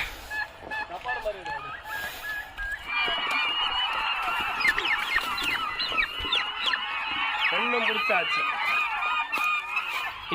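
Turkeys gobble and call loudly in a chorus, close by, over scattered human voices and shouting.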